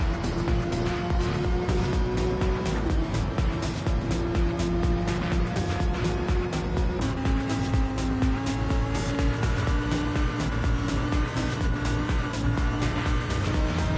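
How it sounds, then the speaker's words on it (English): Gr.3 race cars lapping the Tokyo Expressway circuit in an online Gran Turismo 7 race: a continuous, loud engine whine with pitch rising and dropping through gear changes, and several cars layered together with no break. "The closest race we have right now is between Arthur and Deadshot for 1st place"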